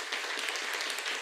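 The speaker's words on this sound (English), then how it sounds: "So let's give him another round of applause." Audience applause at a university lecture session, a dense continuous wash of many hands clapping, moderately loud and steady for a short stretch with no talk.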